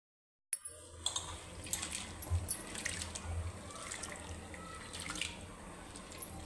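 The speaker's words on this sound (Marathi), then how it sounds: "साबुदाणा स्वच्छ धुवून घेते" Sabudana (sago pearls) are washed in water, with close splashing, trickling and sloshing that carries on steadily after a sudden start, and no talking.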